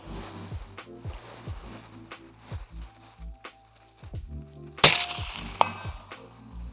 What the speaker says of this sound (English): So we're going to go and take a shot, see what our impact does.